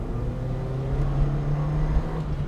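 A Mk1 Ford Fiesta engine runs at high revs, giving a steady, buzzing drone that holds level throughout with no talking.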